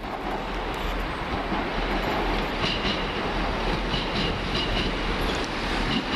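A train passes through London Marylebone station with a loud, close, steady rumble and rail clatter that lasts from start to finish, with no voices.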